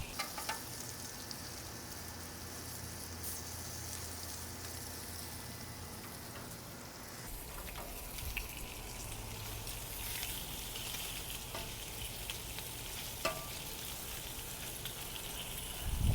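Bacon sizzling on a Weber Slate 30-inch flat-top griddle, a steady crackling hiss that runs throughout, with a few faint clinks and a spatula scrape near the end.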